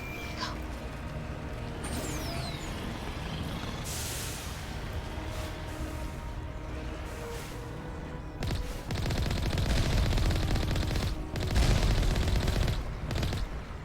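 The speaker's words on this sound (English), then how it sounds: "Right, okay, so they were turrets." Turrets firing in Mass Effect during a rock-hopping mission: rapid bursts of gunfire rattle through the second half, loud and dense over steady ambient game noise.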